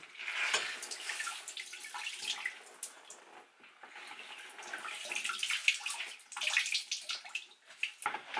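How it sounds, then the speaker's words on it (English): Dirty water splashes and trickles back into a 5-gallon bucket as freshly washed clothes are wrung out by hand off-grid, with close, irregular pouring and dripping bursts and no talking. "I'm not going to do a super wring out, but just enough to get most of the dirty water back out of these."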